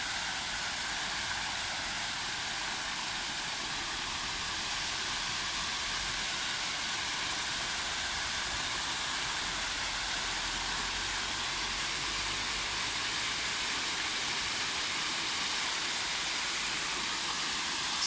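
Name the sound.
waterfall flowing at a park with fountains and koi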